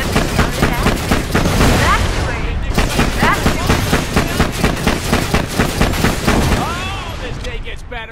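Sustained automatic gunfire in Borderlands: The Pre-Sequel as turrets are shot at, rapid evenly spaced loud bursts running almost continuously with whooshing effects mixed in, close and dense throughout.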